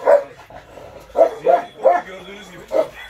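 A dog barking outdoors near a farm garden, a series of about six short sharp barks, fairly close, in an irregular rhythm.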